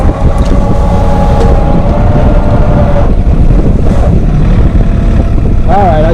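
A New Holland Workmaster 25 tractor engine drones steadily under throttle while pulling in the woods, a loud, close rumble with gusty wind buffeting the microphone and a brief rising whine near the end.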